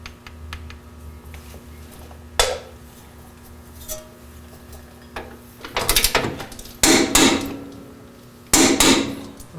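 Cam bolts on the lower control arm of a 5th-gen Toyota 4Runner being reinstalled with a ratchet during a lift kit install: scattered clicks and taps, then several loud bursts of rapid metallic ratcheting near the end, with no talk.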